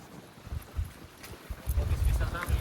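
Gusty wind buffets the microphone in low rumbling bursts, with faint voices in the background.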